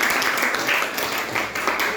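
An audience claps for a participant named Eni at a class session, a dense, continuous patter of many hands that stays fairly loud and even throughout.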